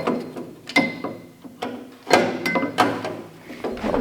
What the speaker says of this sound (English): Reach down in there with a number 2 Roberts bit. Get those 2 little screws out.